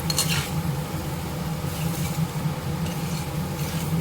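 Sweet potato stir-fry being stirred in a pan over a low flame, with steady scraping and soft clinks of a utensil against the pan and a faint sizzle running throughout.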